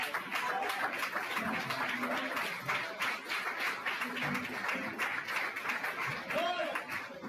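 A church congregation claps together in a steady, dense round of applause that runs the whole way through, with voices mixed in under the clapping.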